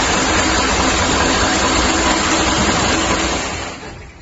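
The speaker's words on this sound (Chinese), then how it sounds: "打开这个搅拌。" The stirrer of a perfume making and mixing machine runs with a steady, loud mechanical whir and hum that holds constant, then winds down near the end, with no voices.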